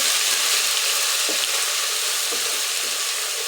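Ginger-garlic paste frying in a pan, a steady bright sizzle with a few soft stirring scrapes, close and continuous with no talking.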